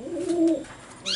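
Racing pigeons in a loft give a single close, low cooing call that rises and falls, followed by a brief higher chirp near the end, with no talking.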